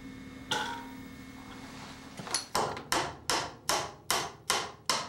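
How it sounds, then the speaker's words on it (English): Nails are hammered by hand up through a wooden top plate into a ceiling joist during a home wall framing repair, about seven sharp, evenly spaced blows ringing close and loud after a short stretch of quieter handling noise. "I nail the top plate up into the joist along this line."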